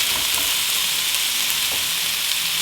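Garlic browning in hot oil in a pan for homemade pickled chiles, a steady, even sizzle hissing continuously and fairly loudly with no talking.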